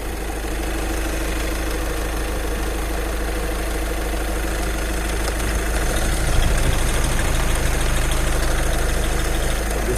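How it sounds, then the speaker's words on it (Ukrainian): A Volkswagen Touran 140 hp TDI diesel engine idles steadily and loudly up close, a constant low rumble with a faint knocking clatter and no other sounds. "Двигун працює ідеально без нюансів."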